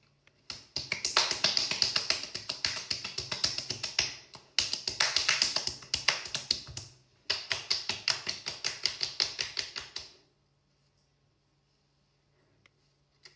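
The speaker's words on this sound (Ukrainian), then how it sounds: "ви просто зобов'язані зробити ще останню процедуру, яка називається оплески" Fingertips pat the face as a skincare step, with three bursts of rapid, close, crisp taps separated by brief pauses, followed by quiet.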